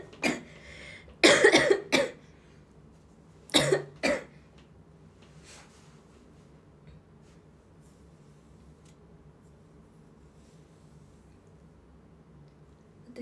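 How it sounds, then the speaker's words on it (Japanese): A few sharp coughs near the start, two bursts close together, then another pair, followed by quiet background. "今咳でそうになった。"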